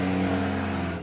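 A demolition derby car's engine revs hard at close range, a loud, steady throaty roar with strong low harmonics that holds through the brief moment, unaccompanied by voices.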